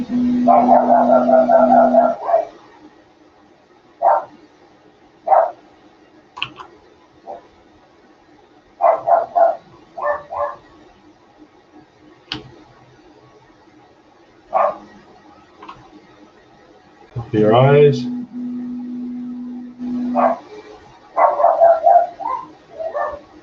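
A dog barks in short, scattered bursts with yips and a whine, fairly close, between quiet gaps while a person speaks briefly.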